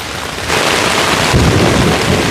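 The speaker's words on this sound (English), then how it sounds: "The rain's coming in on me." Heavy rain roars steadily on a tent at a campsite, growing louder and fuller partway through, with a low rumble that could be distant thunder.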